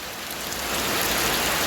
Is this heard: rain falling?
yes